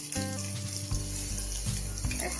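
Egg mixture fries in a pan for an egg sandwich, a soft close sizzle broken by a few low knocks and scrapes as it is turned and shaped.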